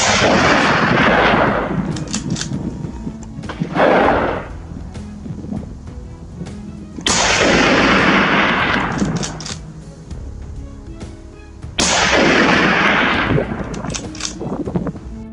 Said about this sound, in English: the first gunshot echoed through the hills